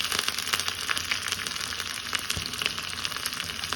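Garlic and curry leaves fry in hot oil, giving a busy, crackling sizzle that stays close and fairly loud throughout with no talking.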